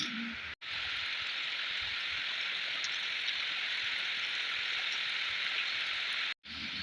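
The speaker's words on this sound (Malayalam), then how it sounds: "നല്ല മഴ വന്നു" Heavy rain pouring down in a steady, dense hiss that runs unbroken and fairly close, briefly cut off twice, with no voices over it.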